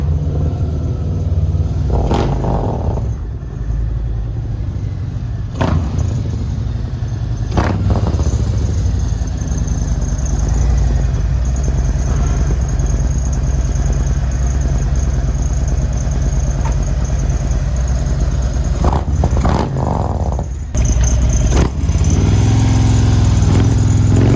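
A Harley motorcycle engine runs loud and rough, idling with a clattering rumble and blipped through several sharp revs, close by, with a few short breaks in between.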